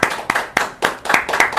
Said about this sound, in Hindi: दोनों हाथों को उठाकर तालियों से स्वागत कीजिए हमारे आज के खास मेहमान, इश्क के चर्चित कवि याह्या बुटवाला